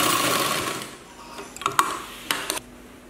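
A sewing machine stitches a seam on a chudithar top, running with a steady close whir before slowing into a few separate mechanical clicks and ticks.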